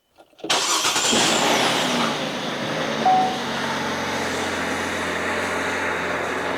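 A Chevrolet Impala with a check engine light and evap purge codes cranks and starts, briefly revs, then holds a steady close idle with a faint whine, and no one speaks.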